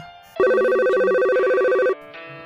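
A cartoon telephone rings with a steady electronic tone that holds for about one and a half seconds, loud and clear, then stops and gives way to a softer sound.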